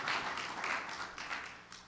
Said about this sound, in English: How about another rousing round of applause for the Clark Atlanta University Philharmonic Society